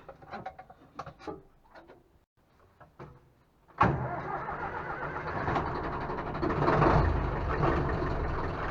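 An Ursus C-360 tractor engine sits silent under a few faint clicks, then abruptly catches with a loud start and settles into a steady, close, rumbling run that swells briefly before holding.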